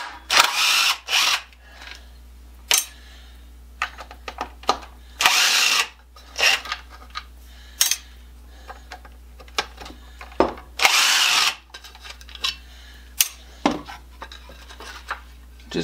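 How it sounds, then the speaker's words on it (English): A cordless impact driver running on a nearly dead battery backs screws out of a saw, firing in about eight short bursts of rattling hammering separated by pauses, close and loud with no talking. "Got a pretty much dead battery on this impact driver."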